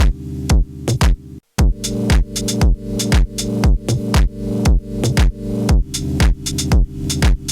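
Sampled chops play back from an SP-404MK2 sampler in a hybrid setup with Logic Pro, loud punchy hits repeating in a steady looped rhythm, with a brief dropout of silence near the start.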